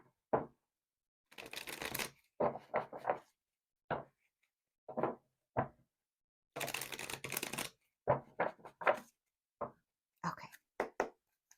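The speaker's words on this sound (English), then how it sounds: "we'll pull some oracle cards" Oracle cards being shuffled by hand in a quiet room, several separate bursts of riffling and sliding card sounds with short pauses between, some quick taps, close and clear with no talking.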